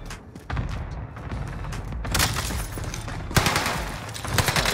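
Call of Duty Warzone gunfire at Fortune's Keep, several bursts of rapid shots in quick succession, loud and close, with sharp cracks and rumbling booms.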